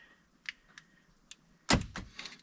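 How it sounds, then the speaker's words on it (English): Power door locks on a 2016 Hyundai Elantra actuating with a few quick clicks, then a louder double thunk of the lock mechanisms, close by with no talking. "Door locks work."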